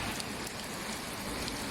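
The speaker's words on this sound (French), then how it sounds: "Je crois bien qu'il pleut." Rain falls steadily in a dense, hissing patter, faint and continuous throughout with no talk.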